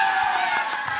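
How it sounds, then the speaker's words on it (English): An audience at a Dhanush film event with Rashmika Mandanna cheers and claps, a dense, steady roar of crowd noise with whoops, fairly loud and continuous for about a second. "Let's clap to that journey."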